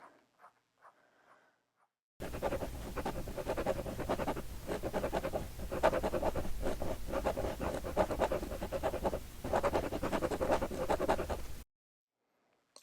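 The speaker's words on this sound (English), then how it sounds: "I'm going to shade around this little kind of raindrop shape." A pencil shades in a sketchbook with rapid, close scratchy strokes, steady and rhythmic for several seconds between quiet pauses.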